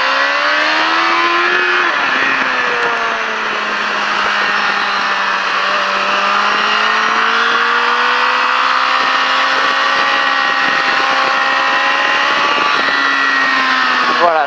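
A motorcycle engine on the La Ferté Gaucher track holds a steady, loud tone, dipping briefly and then climbing smoothly in pitch as the rider accelerates out of a bend.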